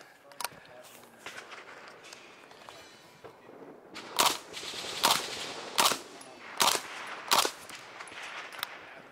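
A PTR rifle fitted with a 3D-printed titanium vent suppressor fires at a CANCON shooting event: a few isolated early reports, then five sharp, evenly spaced suppressed shots, moderately distant over faint outdoor background noise.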